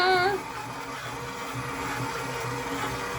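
An electric mixer churns pie crust dough for Thanksgiving pies with a steady, even motor whir, a brief rising whine at the start, then a constant hum.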